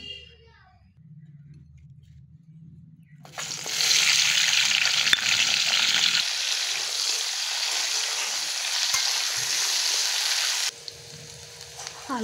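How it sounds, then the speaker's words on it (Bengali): Potatoes fry in hot mustard oil with a loud, steady hiss and sizzle that starts suddenly after a few quiet seconds of low background sound, then cuts back down near the end. "আলুটা ভাজা হয়ে গেছে"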